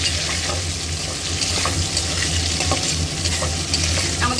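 Cashews and raisins sizzle in hot oil in a pan as they are stirred for a vegetarian biryani, a steady close crackle broken by scraping stir strokes.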